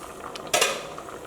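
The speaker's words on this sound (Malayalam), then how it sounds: "ഇനി കറി ഒന്ന് ഇളക്കിയിട്ട് കൊടുക്കാം." A brief metallic scrape and clank of a spoon stirring a vegetable and lentil curry in a pot, one short burst amid a quiet kitchen background.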